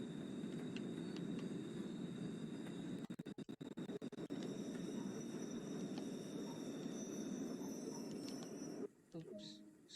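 A locomotive hauling wagons in Train Sim World 2 on a West Cornwall local line, a steady loud rumble and hum of the train moving throughout, with a brief rattling stretch midway and the rumble dropping near the end.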